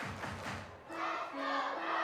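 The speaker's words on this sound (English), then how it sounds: "Let's go Ponies chants emanating from the crowd" Baseball crowd chanting "Let's go Ponies" at a Somerset versus Binghamton game, a rhythmic massed roar of voices, steady and fairly distant, with an organ-like tone holding notes under it.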